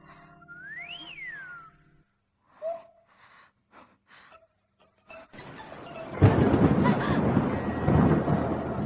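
Thunder in a night-time drama scene, a deep rolling rumble that swells loud and sustained after a tonal whistle and a few quiet scattered sounds.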